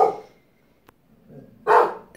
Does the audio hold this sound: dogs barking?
yes